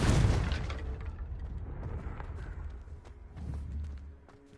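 A Confringo blasting curse goes off in the Hogwarts Legacy video game: a loud booming explosion at the start that rumbles and fades, followed by lighter scuffling and movement.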